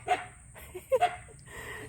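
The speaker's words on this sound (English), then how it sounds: "Dali is my neighbor's dog. She's a cutie. I think Yuki is bothering her, so she's a little upset." A neighbor's dog, upset, giving a few short barks and whimpers in a garden, brief high yelps spaced across a couple of seconds, fairly close.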